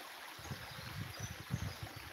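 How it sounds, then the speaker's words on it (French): A small stream trickling and burbling steadily, with soft low gurgles over a faint hiss, close by and with no voices. "Voilà le petit ruisseau, donc ça coule."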